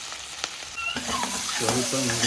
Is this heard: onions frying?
yes